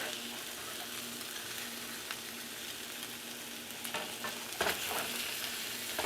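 Southwest chicken patties frying undisturbed in a pan, a steady soft sizzle throughout with a few brief louder crackles and scrapes near the end.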